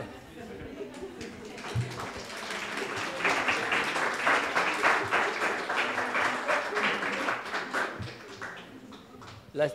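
An audience at a lecture event breaks into applause that swells to a full, dense round of clapping in the middle and then tapers off, with faint voices at the start and end.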